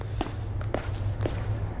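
Soft footsteps of a creature in a Halloween horror video game, a few light steps spread through the clip over a steady low hum, with no talking.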